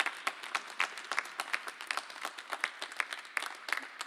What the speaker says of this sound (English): That was sound from the crowd clapping.